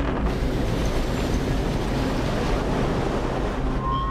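Heavy waves crash against a sailing yacht at sea during the 1979 Fastnet storm, a dense, continuous roar of surging water and wind with a faint tone near the end and no voices.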